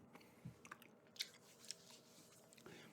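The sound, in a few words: chewing gum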